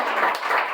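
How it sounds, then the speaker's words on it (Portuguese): Church congregation at a baptism service clapping together, a dense, steady wash of many hands close by, sustained through the moment without a break. "Dá um forte aplauso."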